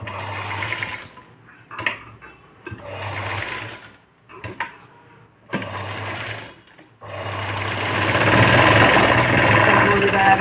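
A sewing machine loudly runs in several stop-start bursts of stitching on a sleeveless princess-cut blouse, ending in a longer continuous run, close and dominant with a steady motor hum.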